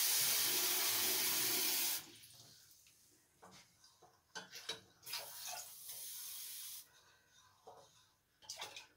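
Water runs from a kitchen tap in a loud steady stream for about two seconds, used to top up tomato soup, then stops, followed by quieter scattered clinks and splashes of handling.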